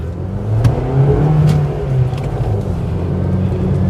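A Honda Amaze car with three people aboard pulling away and accelerating on a test drive, a smooth low engine drone rising steadily from inside the cabin with no talk over it.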